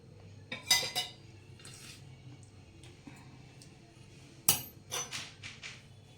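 A spoon clinks and scrapes against a bowl while chili stuffing masala with coriander, lemon juice and oil is stirred, making two short bursts of close metallic clatter separated by quiet.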